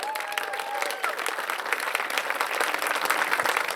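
Large outdoor crowd applauding and cheering for a soccer coach at a high school senior night pre-game, dense and continuous, with a faint voice or whistle briefly audible near the start.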